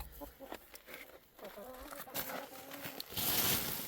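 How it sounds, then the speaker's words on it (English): Chickens in a cold Alaska backyard coop give soft, scattered clucks close by, with rustling and footsteps and a broad noise swell at the end. Low speech runs alongside. "Chickens are doing surprisingly well."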